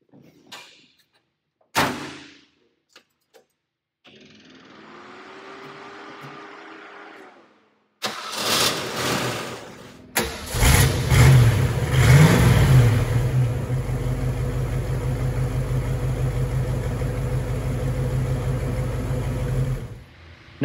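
Red Sunbeam Tiger V8 sports car cold-starting: a few cranking bursts and stutters, then the engine catches at about ten seconds and settles into a loud, steady, rumbling idle with slight revs, no talk.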